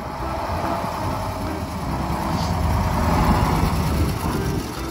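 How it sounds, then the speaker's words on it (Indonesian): A toy dump truck plays an electronic vehicle sound effect: a steady, close rumbling engine drone that swells slightly midway, then eases off, with no talking over it. "Dump truck."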